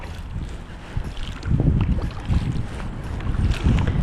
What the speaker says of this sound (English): Now we're paddling under it.